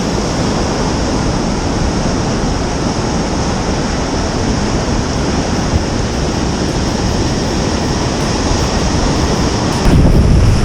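Steady, loud broadband wash of sea surf breaking along a shoreline where someone is lure fishing for sea bass, continuous throughout with a brief surge near the end.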